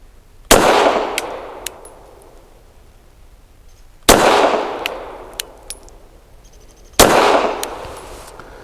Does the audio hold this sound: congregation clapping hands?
no